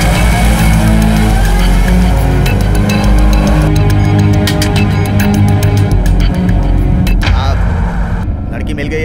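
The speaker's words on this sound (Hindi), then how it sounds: "गाड़ी पीछे ले।" A car reverses fast with loud engine revving and squealing, skidding tyres, close and continuous, while voices speak over it.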